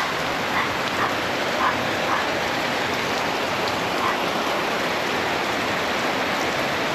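Heavy typhoon rain pours outside in a dense, unbroken hiss that is loud and steady throughout, with faint brief sounds poking through the downpour.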